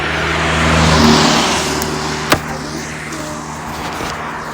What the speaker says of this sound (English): a car just went past really fast